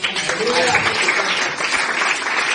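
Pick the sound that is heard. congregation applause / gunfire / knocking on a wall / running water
congregation applause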